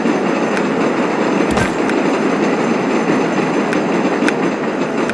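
Trains running in the video game TrainStation 2, a loud continuous rumble of rolling wagons with rhythmic clacks and a few sharp squeals and clanks, no talk over it.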